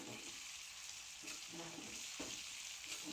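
Pumpkin bhaji cooks in a pan with a soft, steady sizzle and a few brief scraping stirs, close but fairly quiet, with no talking.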